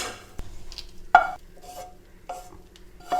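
Roasted coconut and dried chillies being scooped from a pan onto a plate, with sharp scraping clicks and light rustling strokes in a quiet kitchen, a few separate scoops over about three seconds.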